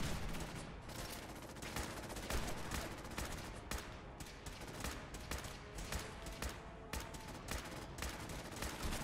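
Weapons in the video game Fallout 4 fire without letup in rapid, loud bursts that overlap into a dense barrage lasting throughout.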